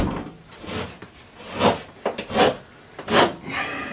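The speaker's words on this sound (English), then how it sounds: "now we have to take this sheet of drywall down" A sheet of drywall being taken down: several rough scraping and rubbing bursts of gypsum board against wood framing, close by and uneven in rhythm, with no speech.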